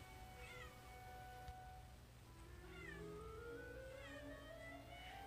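A cat meows repeatedly indoors, several drawn-out, insistent cries spaced over a few seconds, faint against a low steady room hum.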